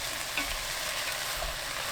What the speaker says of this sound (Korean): 국간장 2큰술, 다진 마늘 반큰술 넣고 1분 볶아주세요.